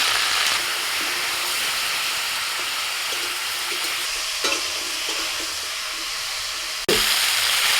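Potatoes and flat beans sizzle and fry steadily in a hot pan with salt and turmeric powder, loud continuous crackle with stirring sounds and a sharp clatter near the end.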